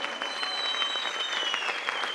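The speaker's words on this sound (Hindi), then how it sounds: "हम बड़ी तालियों के साथ बुलाएंगे ऊपर।" A crowd at a blessing meeting in Thane gives steady, dense applause to welcome a speaker to the stage, a continuous wash of clapping heard up close with no break.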